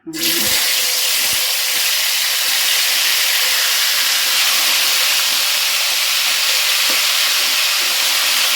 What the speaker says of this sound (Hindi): थोड़ा थोड़ा करके हमने डालते जाना है और इसको फ्राई करते जाना है।